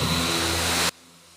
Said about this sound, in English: So let's sand this with 320